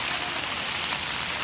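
Steady rain falls on a rooftop garden with potted plants, a dense even hiss of drops that stays loud and close throughout with no voices.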